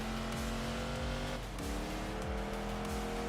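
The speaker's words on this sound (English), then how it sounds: "As big American pushrod V8s thundering around to start its final lap." Big American pushrod V8 race cars in Enthusia Professional Racing thunder continuously with a loud, deep engine drone, briefly dipping in pitch before climbing again as the cars run a lap.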